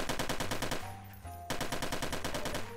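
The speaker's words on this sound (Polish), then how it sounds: "Następna broń to jest HK-1H45. Dosyć głuchy dźwięk" Rapid automatic gunfire from an HK-1H45 weapon in a video game test, two dense bursts of fast, evenly spaced shots separated by a short pause, loud and close.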